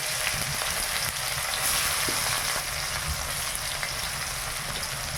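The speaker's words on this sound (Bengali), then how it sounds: "চিনিটা উঠে গেছে এবার পেঁয়াজ আর টমেটোটা আমি দিয়ে দিলাম" Onion and tomato frying in hot oil with sugar in a village kitchen, a dense, steady, close sizzle with faint scrapes of stirring and no voices.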